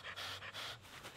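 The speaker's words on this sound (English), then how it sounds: "So I will go ahead, begin inflating this, and let's count together how many breaths it takes." Breaths blown by mouth into a Nemo Tensor Ultra insulated sleeping pad to inflate it, three or four close, breathy puffs in a steady rhythm with short gaps between them.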